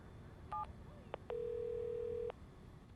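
Phone call placed in the Watch Dogs game goes unanswered: a couple of short dialing beeps, then one long steady ring tone lasting about a second, alone over a faint low hum.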